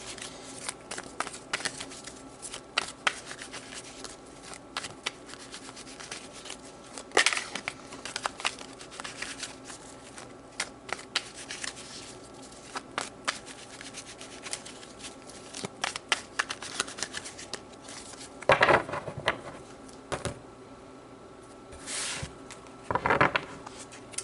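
Tarot cards are shuffled close to the microphone in repeated soft riffling and slapping bursts, with a few louder shuffles toward the end and no talking.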